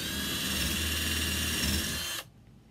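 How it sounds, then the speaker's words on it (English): A power drill whirs steadily at high speed for about two seconds, then stops abruptly, leaving near silence. "You just center it and drill your hole."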